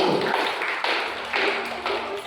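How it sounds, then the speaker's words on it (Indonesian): A debate audience gives a few short bursts of clapping for the pro team, heard close and fairly loud. "aplaus untuk kelompok pro"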